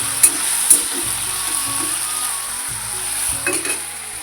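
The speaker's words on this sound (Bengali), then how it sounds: "পেঁয়াজ ভাজার পর এই যে আলু দিয়ে দিয়েছি।" Potatoes fry in a pan of hot oil over already-fried onions, a loud, close, continuous sizzle with occasional sharp clinks and scrapes from stirring.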